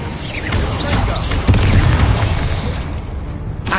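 Incendio fire spell cast in Hogwarts Legacy, a loud whooshing burst with a rumbling boom that swells and roars for a few seconds amid game effects.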